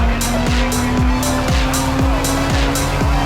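A 1997 Honda Civic Type R climbs uphill in second gear on the Laguna Seca racetrack. The engine drones loud and steady while the tires give a rhythmic, repeated squeal about every half second, with no voices.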